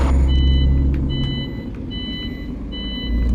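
A truck in On The Road truck simulator gives off steady reversing beeps, four evenly spaced tones over a loud engine rumble.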